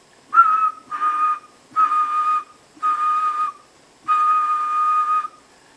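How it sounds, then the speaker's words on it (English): A person whistles into a dynamic microphone wired to an oscilloscope as a test: five clean, steady whistled tones in a row, each about half a second to a second long with short gaps, close and clear with no talking. "I'll give it a whistle test."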